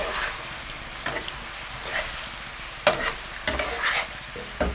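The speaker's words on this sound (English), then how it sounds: "Remove the lid and gently toss, being careful not to break the fish pieces." Pan-fried fish pieces being gently tossed in ginger scallion sauce, a steady soft sizzle with several scraping stirs and clinks at irregular intervals, close and moderately loud.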